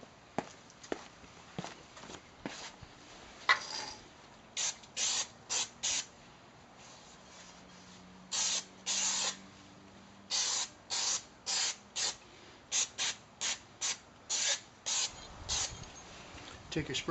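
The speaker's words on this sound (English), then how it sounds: "If you have some brake cleaner, now would be a good time to spray it on the rotor" An aerosol can of brake cleaner sprays onto a Mercedes rear brake rotor in a long series of short, sharp hissing bursts, fairly close, with quiet shuffling and handling noises between them.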